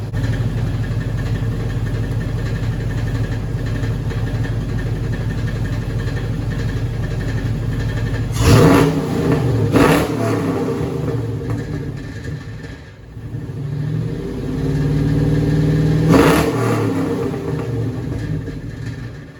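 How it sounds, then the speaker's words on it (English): Cadillac V8 with Dynomax valved exhaust mufflers idling steadily, then two sharp revs in quick succession, a settle, and another longer rev building to a brief blip, close and fairly loud with no talking. "give it a couple revs, see how it sounds"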